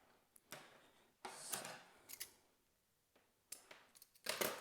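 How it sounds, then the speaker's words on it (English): Scissors snip through a length of plastic watering tubing for a plant watering system, a few sharp, close cuts in short separate bursts with quiet gaps between them. "let's cut off roughly another piece"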